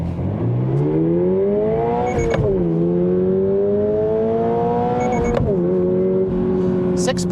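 A 2024 Subaru BRZ tS launches after a softer clutch drop and pulls hard through the gears. Its engine note climbs steadily, dips briefly at two quick shifts, and stays loud and close throughout.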